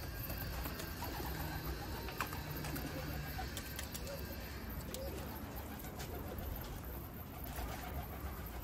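Pigeons coo softly and steadily in a loft feeder, a low murmuring bed of bird calls with scattered faint clatter and distant background voices.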